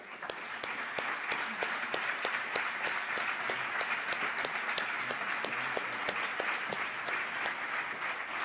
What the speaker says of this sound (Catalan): Avui un fort aplaudiment per elles.